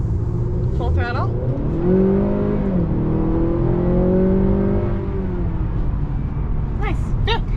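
Engine of a 2021 Honda Accord 2.0T Sport pulling hard at full throttle, heard from inside the cabin; a rising drone swells and shifts pitch as it climbs through gears, with brief voices near the start and end.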